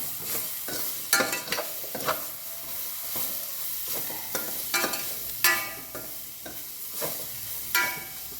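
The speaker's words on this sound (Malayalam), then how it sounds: "ഒരു മാങ്ങയുടെ കഷ്ണങ്ങൾ ഇടാം ഒന്ന് ഇളക്കി കൊടുക്കാം" Mango pieces stirred into a simmering bitter gourd curry in a pan, repeated scraping strokes of a spoon at irregular intervals over a steady frying sizzle, close and clear with no talking.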